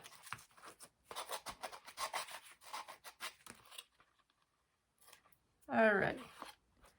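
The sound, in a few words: sandpaper rubbing on a gift box edge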